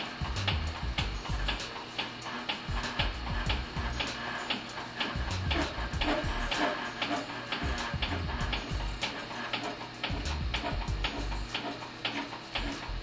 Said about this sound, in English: Allow the pump to relieve to purge any air from the hydraulic system.